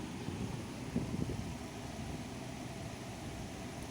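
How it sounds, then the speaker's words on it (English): A big fan drones steadily at close range inside a 2017 GMC Denali, a broad constant whoosh that barely changes from start to finish. "I don't think you can hear me because we got this big old fan on here"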